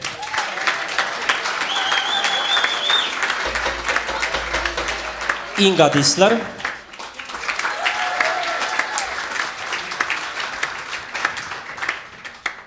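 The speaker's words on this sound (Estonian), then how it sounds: "Aplaus palun." A crowd applauds at an Estonian album-release concert, steady clapping carrying on while a voice speaks over it, briefly swelling louder midway before continuing.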